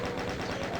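Chaingunner enemy firing in the DOOM video game, a continuous rapid rattle of gunfire with steady repeating bursts, loud and dense throughout with no speech over it.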